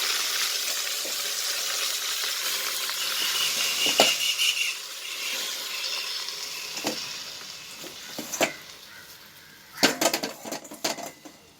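Black nightshade greens sizzling in a pan with mustard seeds, a loud hiss that fades over time while a few sharp clanks and bursts of spattering break through near the end.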